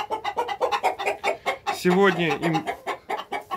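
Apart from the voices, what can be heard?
chicks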